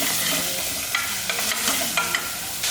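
Tomato and coconut pieces sizzle and fry in a pan while being stirred, a constant hiss broken by soft scraping stir strokes, close and alone.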